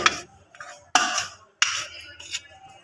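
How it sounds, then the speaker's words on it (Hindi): A spoon clinks and scrapes against a bowl in a few short bursts while potato pieces are mixed with salt, carom seeds and crushed chilli. "आलू को मसाले में मिलाएंगे अच्छे तरीके से।"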